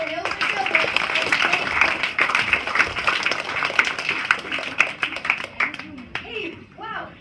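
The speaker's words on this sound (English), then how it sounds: "How about a big round of applause for Hilda Childer" Studio audience applause at a variety show, a sustained patter of clapping with voices talking and calling out over it throughout.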